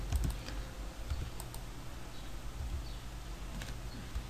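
Keys on a computer keyboard clatter in quick irregular taps while a program is typed into the xLogo editor, close and fairly soft against a low background hiss.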